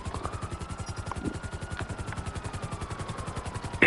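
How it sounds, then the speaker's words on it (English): Helicopter rotor in Grand Theft Auto Online, a steady rapid chopping pulse throughout, close and loud, with a faint engine whine above it and a brief clatter at the end. "When I spawned the helicopter on like this tree and I even parked on this tree"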